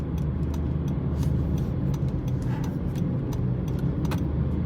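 A 2025 Honda ZR-V Touring 2.0 CVT slows on a winding road, with a steady loud cabin rumble of road and engine noise and faint clicks and rattles, heard from inside without talk.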